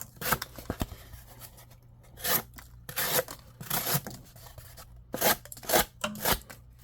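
A Kingpin front flipper knife blade cuts through material in clusters of short, crisp rasping slices, close and loud, with quiet pauses between strokes and no talking.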